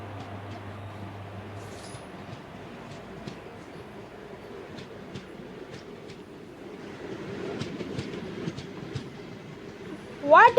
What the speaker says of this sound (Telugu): what a track sound